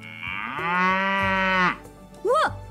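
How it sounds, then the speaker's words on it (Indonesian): An alpaca in the farming game Doraemon Story of Seasons lets out a loud, drawn-out lowing call, then a short rising-and-falling squeal after a brief pause, close and with no talk. "Oh, alpaka."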